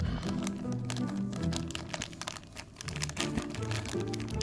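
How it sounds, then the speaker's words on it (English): Plastic blind box bag from a Kaiyodo Shin Ultraman set being torn open by hand: continuous close crinkling and rustling of thin plastic, with irregular crackles over about four seconds and no talking. "watch me struggle opening a plastic bag with my fingers"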